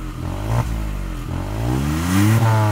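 A Hyundai i20 N Line's exhaust revs steadily, its engine note climbing in pitch toward the end in a loud, close, continuous drone with no voices.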